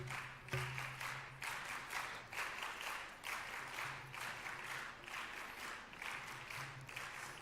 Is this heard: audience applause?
yes